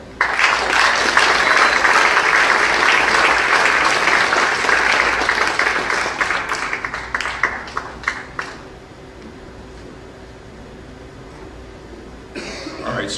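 Loud sustained applause from a crowd at a school winter sports awards ceremony for several seconds, fading into scattered claps and a few coughs, then a brief burst of noise.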